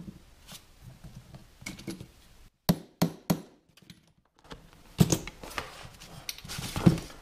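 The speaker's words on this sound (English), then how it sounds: "line our punch with the witness mark. And pop the hole." A hammer strikes a metal punch to pop holes in a Caterpillar D2 diesel engine intermediate cover: three sharp close metallic blows in quick succession, then more knocks and handling clatter amid quieter shop noise.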